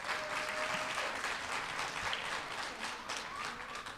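An audience applauds steadily, many hands clapping in a dense, sustained wash that eases slightly toward the end.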